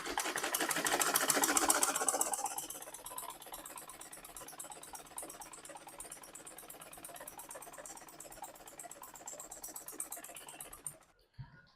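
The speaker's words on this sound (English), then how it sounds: "I'm just going to insert gathers on the waistline." A sewing machine stitches gathers into a skirt waistline, running loud and fast at first, then settling into a steady, quieter mechanical whir that continues until it stops near the end.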